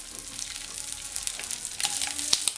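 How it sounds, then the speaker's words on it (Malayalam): Drumstick leaves sizzle and crackle steadily in hot oil while frying for a curry, a close, continuous hiss with scattered pops and brief stirring sounds. "മുരിങ്ങയില എണ്ണയിൽ കിടന്നൊന്ന് മുരിഞ്ഞ് വന്നാൽ മാത്രം മതി"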